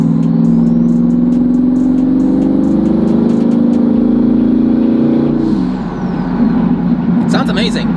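A twin-turbo C8 Corvette with top-mount turbos revs hard, its engine rising steadily in pitch and staying loud for about five seconds before dropping off abruptly, followed by lower idle rumble and brief clatter at the end.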